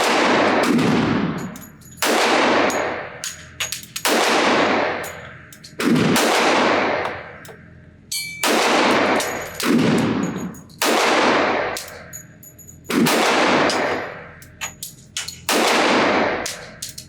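A Sig Sauer 1911 Nightmare pistol fired one-handed at a range, about eight loud, sharp shots spaced roughly two seconds apart, each leaving a ringing decay and echo.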